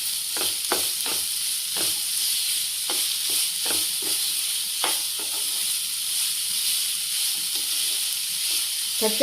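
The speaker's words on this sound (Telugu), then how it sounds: "తర్వాత ఇది కొబ్బరి, జీలకర్ర, పచ్చిమిర్చి దంచి పెట్టుకున్నాం కదా మనం, అది కూడా వేసుకోవాలి. మంచిగా వేగుద్ది దీంట్లో తాలింపులను" Crushed coconut, cumin and green chilli fry with onions in hot oil for tomato rasam, a steady hiss running throughout with scattered sharp crackles and pops.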